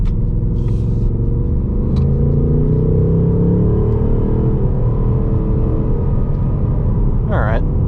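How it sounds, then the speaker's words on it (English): A 2024 Ford Mustang GT with a 10-speed automatic accelerates in sport mode on a test drive, its deep engine rumble loud and steady from inside the cabin, with a brief rising whine near the end. "We'll go into sport mode, not track, but I'll just go a little bit faster over here."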